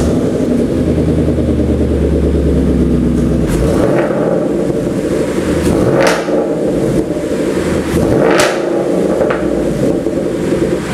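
A manual sports car with an axle-back exhaust starts and revs hard, its loud, raspy engine note rising and falling through several sharp blips, heard up close with no talking.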